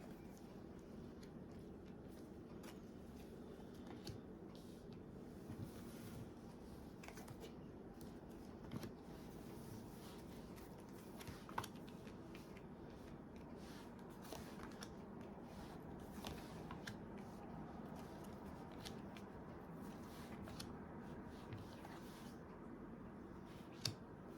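Angel oracle cards shuffled by hand during a card reading, a quiet, continuous riffling and flicking of card stock with occasional sharper snaps, faint and close, with no talking.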